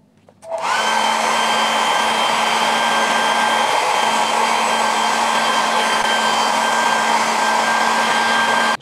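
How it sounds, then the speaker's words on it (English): Hair dryer on mild heat warming Sony WF-1000XM4 wireless earbuds before teardown, switching on abruptly and then blowing as a loud steady whirring hum with no talk. "To tear this down, we have to heat this using hair dryer."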